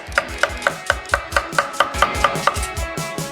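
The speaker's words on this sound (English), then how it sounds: "into quarters and chop" A knife chops cucumber quarters on a board for gazpacho: about a dozen crisp, evenly spaced chops in a quick steady rhythm, close and clear with no talking.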